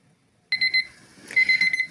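A kitchen timer beeps in two quick bursts of shrill, pulsing electronic tones after a moment of silence, after chicken liver simmers ten minutes.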